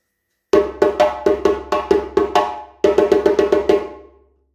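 Djembe playing the Yankadi call rhythm: a run of sharp, ringing tone strikes in a quick even row, a brief pause, then another tight burst, close and loud with no talk.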